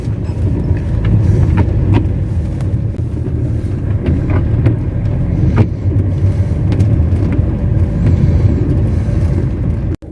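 Truck driving in the rain, a loud, steady low road and engine rumble with scattered sharp ticks from raindrops, continuous throughout and ending abruptly.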